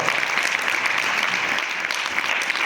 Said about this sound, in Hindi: एक ताली बजाओ परमेश्वर के लिए, एक नमान के लिए भी बजाओ।